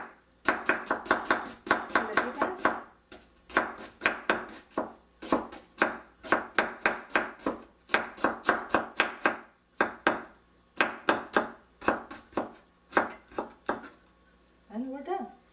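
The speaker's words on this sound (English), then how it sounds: "I'm just gonna cut the slices." A sharp kitchen knife cutting through vegetables or meat on a cutting board in quick rhythmic bursts of chops, close and crisp, with short pauses between runs and a faint squeak at the end.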